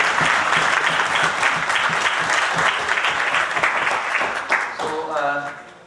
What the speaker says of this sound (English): I think a huge round of applause for Ramesh, sir.